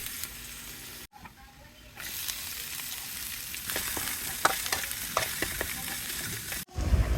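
Garlic and onion sautéing in a pan: a close, steady sizzle and hiss with scattered stirring clicks. The sizzle drops briefly near the start and swells louder after a short cut, with faint background voices.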